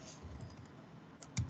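Fingers tap a computer keyboard while web code is being written, a few soft scattered keystrokes close by, ending in one sharper, louder click.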